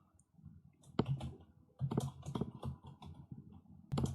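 Quick, close keystrokes on a computer keyboard as a command is typed, coming in short uneven bursts with brief pauses between.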